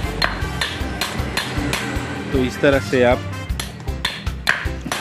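A hammer repeatedly strikes the shaft of a Kirloskar agricultural water pump to drive out a 6203 bearing, giving sharp metallic knocks in a steady rhythm, close and loud, with someone talking over them.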